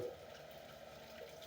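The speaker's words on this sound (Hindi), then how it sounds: "अब स्पेगेटी को ठंडे पानी से धो लेंगे ताकि स्पेगेटी आपस में चिपके ना।" Cold water rinses freshly cooked spaghetti in a home kitchen, a steady low gushing flow with a faint splash at the start, fairly quiet and continuous, with no talking.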